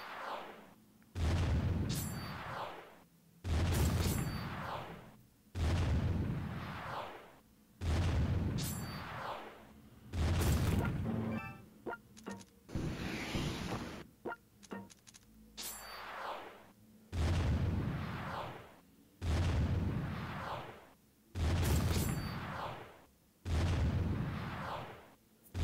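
Missiles launch and detonate in a strategy video game, a run of about ten heavy booming blasts in steady succession, each rumbling burst separated by brief gaps, loud and without talk.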